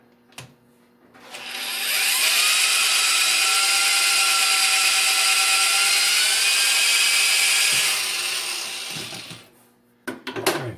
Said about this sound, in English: I might have to sharpen this drill up.